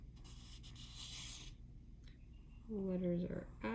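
A pencil draws a letter L along the straight edge of a note card, a soft, faint scratching stroke near the start, followed by a person speaking.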